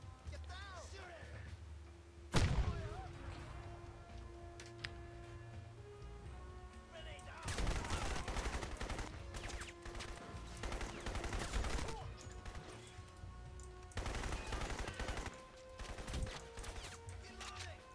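Gunfire in the shooter Crysis: Episode 2 comes as several bursts of rapid automatic shots separated by quieter stretches, with a sharp impact early on and someone talking intermittently.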